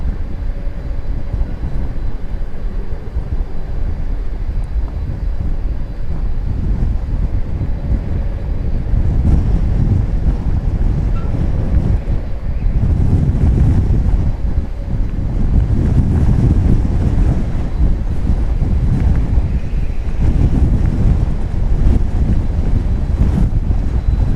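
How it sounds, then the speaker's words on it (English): Strong wind gusts at Dallas Fort Worth airport during a plane takeoff roar and buffet the microphone in heavy low rumbling bursts, growing louder after the midpoint, with no talk. "Wow, another big gust as this plane takes off."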